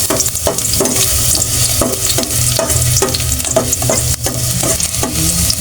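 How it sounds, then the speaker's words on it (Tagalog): Garlic, onion and ginger sautéing in hot oil in a pot for salmon-head sinigang, a steady loud sizzle with rhythmic stirring scrapes throughout and no talk. "Gisa natin yung ricado guys para mabango."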